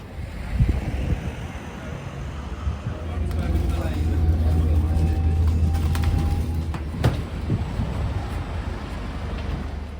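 A ride on London's 108 bus toward North Greenwich: a low, droning engine rumble with road noise and occasional rattles and clunks, loud and close, with indistinct voices in the background.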